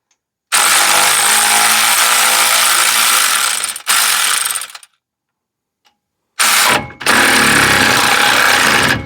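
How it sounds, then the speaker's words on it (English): A small battery-powered electric ratchet whirs loudly and steadily while straining on tight bolts of a 2019 Ford F-250 Super Duty front axle, running in two long bursts separated by a short pause. "it's just about all this little electric ratchet wants."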